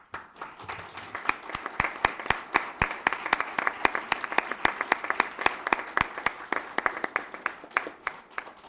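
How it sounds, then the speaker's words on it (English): Audience applause at a school community award ceremony, a sustained round of clapping with sharp, distinct individual claps keeping a fairly even rhythm throughout. "I would like to also take a moment to acknowledge other people in the room who deserve a big round of applause."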